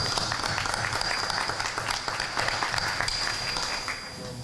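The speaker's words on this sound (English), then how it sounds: "Give yourselves a round of applause for being" Audience at an Alliance for Peace town hall meeting clapping together in a sustained round of applause, fairly even and continuous, thinning a little near the close.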